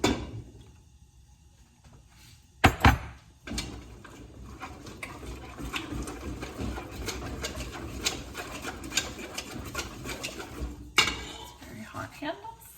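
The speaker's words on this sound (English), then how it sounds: "keep using my whisk to beat it very quickly" Whisk beating eggs into cream puff dough in a bowl, a fast rhythmic metal clatter running steadily through most of the stretch with a couple of louder knocks against the bowl, close and fairly loud.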